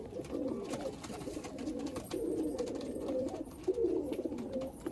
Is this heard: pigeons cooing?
yes